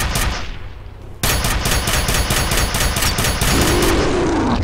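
Rapid shotgun blasts from the shooter game F.E.A.R. fire in a loud, regular burst of sharp repeated shots after a short quieter lead-in, continuing steadily to the end.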